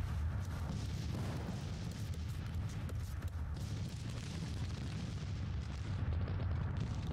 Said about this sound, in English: Meade is shooting at the enemy artillery here